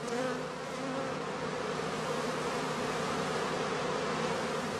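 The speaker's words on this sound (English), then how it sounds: "The experienced beekeeper can tell from their behavior at the entrance whether the bees are about to swarm." Honeybees crowd the entrance of a straw skep hive at a house apiary, their dense, steady buzzing close and continuous with no pauses.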